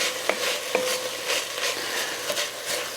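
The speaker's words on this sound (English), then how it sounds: "Let these onions and peppers soften a bit." Onions and peppers sizzle softly in a pot for a Mexican beef stew, a steady frying hiss with a couple of light stirring clicks.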